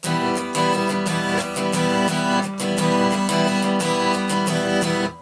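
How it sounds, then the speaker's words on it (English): Continuous strummed guitar chords ringing into each other with no muted gaps, a steady, dense rhythmic wash that stays loud throughout. "If you don't actually employ any left-hand muting, it's going to sound like this."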